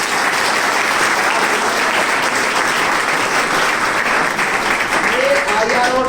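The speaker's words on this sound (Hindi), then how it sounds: "तो जोरदार तालियां लगा" Loud, sustained applause from an audience celebrating an army recruitment selection, dense clapping filling the whole stretch with a faint tonal sound near the end.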